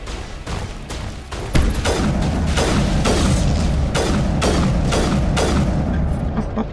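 Sledgehammer rounds fired in the Mass Effect video game: about ten loud, booming shots at a steady pace, each with a short ringing tail, following a few softer opening thumps.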